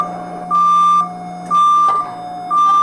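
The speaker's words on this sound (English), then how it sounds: "That is the sound of the doors closing on the MRT to let you know the doors are closing." Taipei MRT train door closing warning, a loud repeating electronic beep pulsing about once per second over the hum of the station platform, with no talking.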